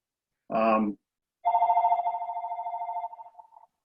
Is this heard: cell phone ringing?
yes